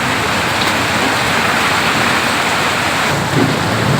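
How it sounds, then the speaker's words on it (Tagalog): Loud, dense downpour of heavy rain in Montalban roaring steadily up close, a continuous wash of hissing water with no pauses. "ayun lakas po ng ulan"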